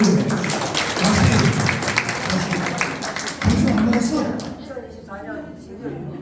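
A crowd claps at a founding ceremony for a taekwondo team, uneven bursts of hand claps that rise and fall, mixed with voices talking over them.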